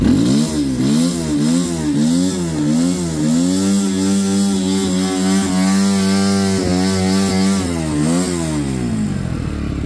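A Geon Scrambler 250 motorcycle engine revs loudly and repeatedly, its pitch climbing and falling in quick throttle blips before one longer, sustained rev, close to the microphone.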